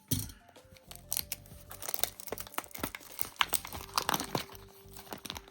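A Magic: The Gathering Aetherdrift collector booster box has its plastic wrapping opened, giving close, loud bursts of crinkling, tearing and crunching that come in irregular rapid clusters.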